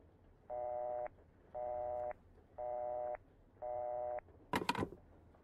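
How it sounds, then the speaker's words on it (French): A telephone rings inside the horror game Project Nightmares: four evenly spaced electronic tone bursts, each about half a second long, followed by a sharp, sudden clatter like a handset being picked up. "téléphone."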